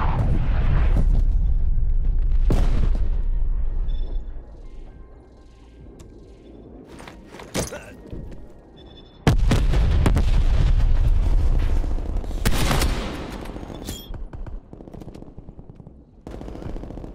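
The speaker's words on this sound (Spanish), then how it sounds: "Ataque inminente de artillería hostil." Hostile artillery strike in Call of Duty: Black Ops Cold War multiplayer, with loud bursts of shelling and explosions that come in waves, mixed with rapid gunfire, dropping to a quieter stretch in the middle before the barrage returns.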